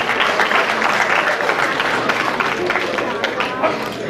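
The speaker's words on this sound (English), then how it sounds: "Give a big round of applause to Detroit." A large audience at a Detroit gathering of the North American Telugu Association applauds steadily and loudly for the whole stretch, with dense clapping and crowd noise.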